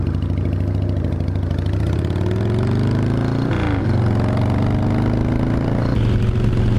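A Harley-Davidson EVO Sportster chopper with drag pipes warms up, its V-twin loping loudly up close in a steady rumbling idle, with a quick throttle blip midway before settling back down.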